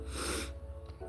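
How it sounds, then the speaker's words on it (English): A single sharp, breathy sneeze burst at close range, starting abruptly and fading within half a second, followed by quiet breathing. "I'm just about to sneeze."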